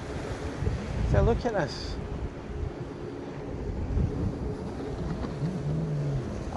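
Wind buffets the microphone on South Shields beach, a continuous low roar with gusty swells, while a person speaks briefly and other voices and faint vehicle sounds drift in.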